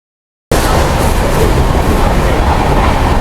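An Antyodaya Express train rushes past a crossing at high speed, a loud, dense roar of wheels and carriages that bursts in suddenly and holds steady at close range, with no voices.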